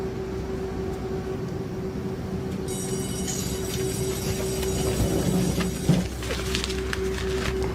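Commuter train rolling along the rails, a steady low rumble with a constant hum and faint clatter throughout, plus a brief metallic squeal near the end.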